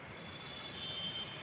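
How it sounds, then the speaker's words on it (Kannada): A metro train passes through the station, a faint, steady rumble and rail hiss that swells slightly toward the end of the short stretch, with no voices. "ಆ ಕಡೆ ಹೋಗುವಂಥ ಒಂದು ಟ್ರೈನ್ ಹೋಗ್ತಾ ಇತ್ತು, ಮೆಟ್ರೋ"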